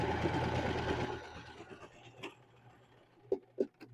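A home sewing machine runs a backstitch on a zipper pouch, its steady, dense motor whir fading after the first second into a few quieter stitching ticks and sharper handling clicks near the end.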